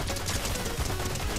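Rapid gunfire from an SMG in the Fortnite video game, a dense continuous burst of shots lasting just over a second.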